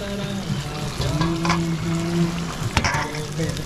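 Food sizzles and crackles in a pan close by, steady frying under some tonal hum and light clatter, with a voice briefly present.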